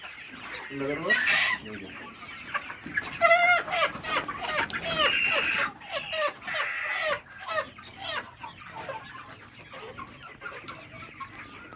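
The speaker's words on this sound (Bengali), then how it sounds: "এখন একটা মুরগি ধরি" Sonali chickens cluck and squawk loudly in agitated bursts as one is caught for weighing. Several birds call close by and a voice is heard now and then.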